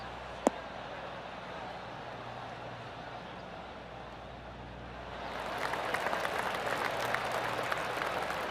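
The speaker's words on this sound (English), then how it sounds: "That deserves a golf clap." Crowd applause at a golf hole in the PGA Tour 2K23 video game, a soft polite clapping that swells in over a steady hiss of ambient course noise after a single sharp tap near the start.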